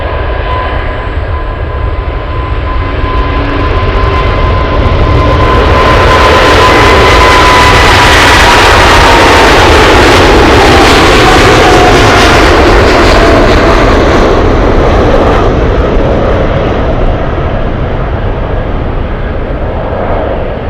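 A Cargolux Boeing 747 cargo jet on the move at Anchorage airport, its engines swelling to a loud, roaring peak midway and easing slightly as it passes, with no one talking.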